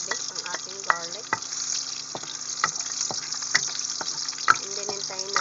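Crushed garlic frying in a hot pan gives a steady close sizzle, broken by occasional soft clicks and stirring scrapes, with no talking.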